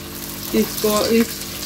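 Tomato paste added to softened onions frying in a pan for an aloo anday dish, giving a few short sizzling bursts over a steady low cooking hiss.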